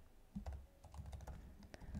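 Quiet typing on a computer keyboard: a short, irregular run of soft key clicks over about two seconds, with no talking.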